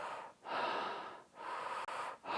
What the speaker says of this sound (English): You can do orgasmic breathing, which is just mouth only.